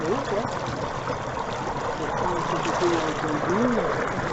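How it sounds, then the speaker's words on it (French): A small waterfall cascades in a wild river gorge in the Corbières, a loud, continuous broadband rush, with murmuring voices and birdlike tonal sweeps faintly riding on top. "une petite cascade ici."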